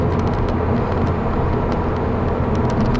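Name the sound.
2010 Volkswagen GTI engine while driving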